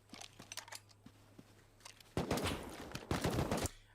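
Rust survival game gunfire: faint scattered clicks give way to two loud bursts of rapid shots near the end, with no talking.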